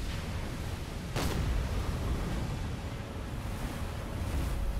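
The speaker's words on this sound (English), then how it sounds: "Waves are quite brutal." Rough ocean surf in the Silent Hunter 4 submarine game, a steady broad wash of waves and wind with one brief splash burst early on, no voices.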